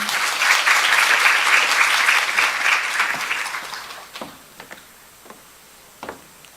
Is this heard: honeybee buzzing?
no